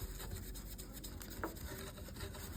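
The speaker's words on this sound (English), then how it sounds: "I'm trying to get rid of any cement that is not in its groove." Excess cement being rubbed off a leaded stained glass panel, a quiet, continuous scrubbing and rasping close by, with brisk back-and-forth strokes and no voices.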